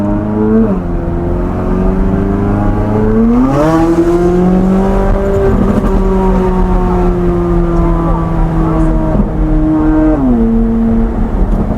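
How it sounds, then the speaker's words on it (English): Chevrolet Corvette C8 Z06 engine held at steady loud revs, rising and falling in pitch through several gear-like shifts, close and continuous throughout. "The car sounds crazy."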